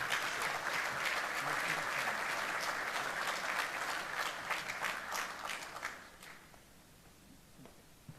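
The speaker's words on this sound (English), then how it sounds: "Let's give them a round of applause as they come." A large symposium audience applauds steadily as panel members walk onto the stage, a dense wash of clapping that holds for about six seconds before thinning out to a quiet room.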